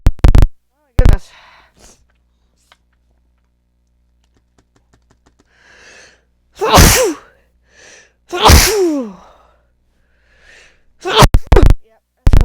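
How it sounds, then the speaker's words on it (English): Two loud, sharp sneezes burst out close by, one after the other, with brief bits of talk and faint clicking in the quieter stretches around them. "Sneeze."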